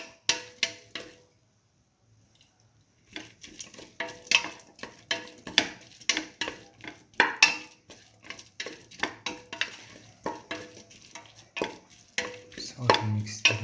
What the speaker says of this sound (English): Salt and mix thoroughly.